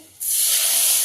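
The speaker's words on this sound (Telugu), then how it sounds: "ఈ యొక్క పచ్చట్లోకి వేసుకున్నాం" Hot oil tempering poured into a pickle sets off a sudden loud hiss that jumps out of near silence and holds as a close, steady, bright sizzle, with no talking.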